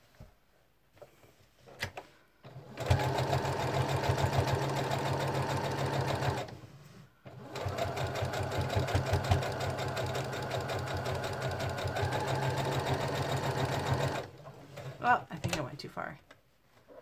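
Sewing machine stitching a paper-pieced quilt block, running in two long steady bursts of rapid mechanical whirring with short pauses between them, close and clear.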